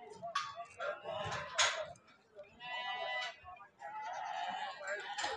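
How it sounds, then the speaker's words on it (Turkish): Lambs bleat repeatedly at a small-livestock market in Ceyhan, several overlapping wavering cries near and mid-distance, with a brief pause between bursts over a murmur of market noise. "Burada kuzular var."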